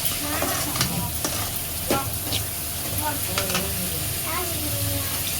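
Squid masala sizzling loudly in a frying pan while being stirred, with repeated scraping strokes of a spoon against the pan over constant frying hiss, and a voice talking faintly underneath.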